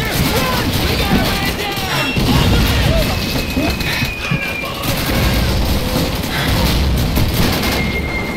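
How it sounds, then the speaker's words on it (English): A grenade goes off in the World War II shooter Call of Duty 2, a loud close blast amid continuous rolling gunfire and battle noise that lasts the whole stretch. "That's a grenade."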